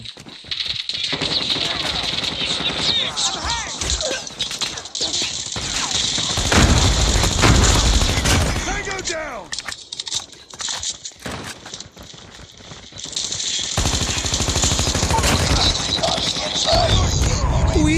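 Rapid automatic gunfire in the Call of Duty video game crackles in dense, loud bursts almost without pause, with a player talking over the shooting.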